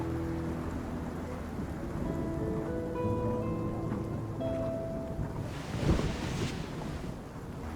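Steady rain in the Love and Deepspace game scene, a dense continuous hiss of falling water under streetlights at a bench, with soft musical tones drifting over it and a brief swell of heavier rain toward the end.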